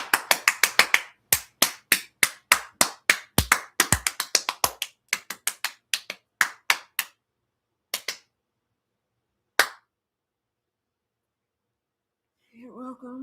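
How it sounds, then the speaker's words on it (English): A handful of people clap in a small room, a quick burst of sharp, dry claps thinning to a few scattered ones before silence, then a voice begins speaking. "Make it clap for the last minute."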